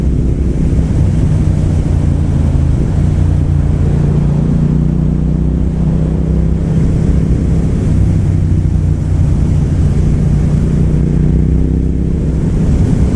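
A Triumph Speed Twin motorcycle rides fast in sport mode: a loud, steady engine drone is buried under heavy rushing wind noise throughout, with no pauses.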